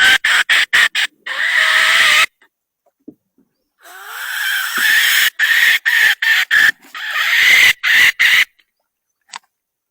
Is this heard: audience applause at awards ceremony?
no